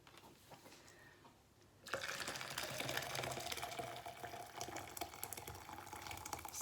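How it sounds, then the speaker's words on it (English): Boiling water poured into a measuring jug over stock cubes for soup, a steady broadband splashing pour that begins abruptly and runs continuously to the end, fairly close and with no talk. "we'll fill up the jug with 900 ml of boiling water"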